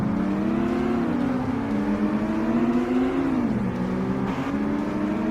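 Honda Accord engine in the Forza Motorsport racing game, a steady droning hum that rises and dips slightly in pitch as the revs shift, loud and continuous with no talk.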